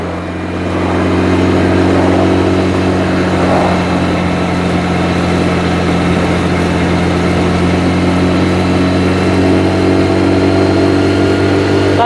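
A motorcycle engine drones steadily while riding along a rural road, a loud, constant low hum with wind rush and no change in pace.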